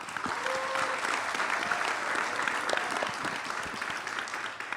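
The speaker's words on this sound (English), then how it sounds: "Let's give them a round of applause." An audience at a Title IX panel event applauds the panel members, a full, continuous round of clapping from a roomful of people, fairly close and steady before tapering slightly at the end.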